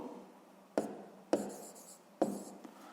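A pen scratches across paper while working a sixth-grade math exercise, three distinct close strokes spaced through a quiet moment.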